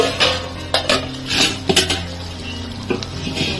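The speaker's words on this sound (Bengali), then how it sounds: "ঢাকনাটা খুলে নেব।" Metal lid lifted off a pot of pumpkin and potato curry, with sharp clanks and scrapes of metal on metal at close range, a few separate knocks and a quiet stirring rattle between them, and no talking.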